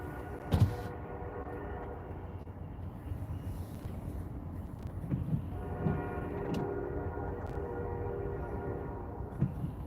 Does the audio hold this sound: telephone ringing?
no